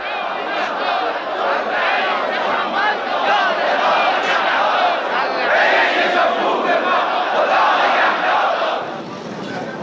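A large crowd gathered for Friday prayers in Iran, worked up by a mullah, roars in a dense continuous wash of massed voices and chanting, loud and sustained throughout before easing slightly at the very end.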